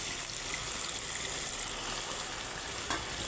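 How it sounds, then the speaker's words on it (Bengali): Pangas fish sizzling and frying in a pan as a little water is added and stirred in, a steady bubbling hiss, close and fairly faint, with no talk. "মাছগুলো দিয়ে নাড়াচাড়া করে নিচ্ছি আর অল্প জলও দিয়ে দিচ্ছি"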